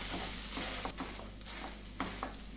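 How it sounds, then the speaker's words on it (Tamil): A masher presses cooked pav bhaji vegetables in a pan, making a steady soft sizzle with a few dull squelching presses, close and continuous, with no talking. "இதையே ஒரு மேஷர் வச்சு நல்லா இப்படி ப்ரெஸ் பண்ணி விட்டுருங்க."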